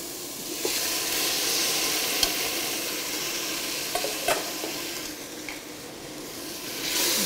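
Tomatoes are being stirred into onions already cooked in a pan. A steady sizzling hiss runs throughout, broken by occasional clicks and scrapes of the spoon, and no one speaks.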